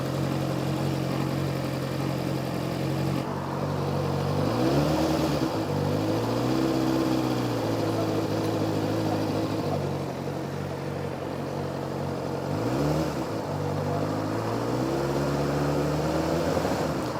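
A Honda CB600F Hornet motorcycle engine idles evenly throughout, a low rumbling drone with a couple of brief revs swelling and settling back down.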